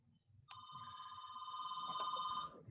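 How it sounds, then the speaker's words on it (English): A landline house telephone rings steadily with a bright electronic trill, starting abruptly and continuing for about two seconds over low background murmur, fairly quiet overall. "I got a phone ringing here."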